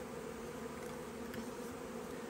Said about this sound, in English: there's Saskatraz bees.